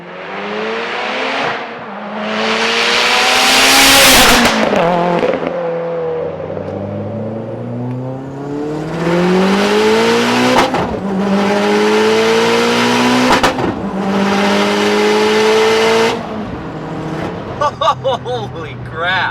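A tuned, water-methanol injected turbocharged 2014 Mitsubishi Evo engine revs hard and close, climbing and dropping through several loud surges with whooshing bursts between them.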